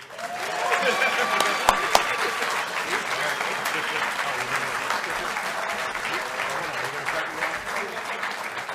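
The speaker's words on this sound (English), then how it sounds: "So just give them another round of applause." A conference audience at a leadership conference closing session breaks into sustained applause. Dense, continuous clapping holds strong for nearly nine seconds, with a couple of sharp louder claps near the start and murmuring voices underneath.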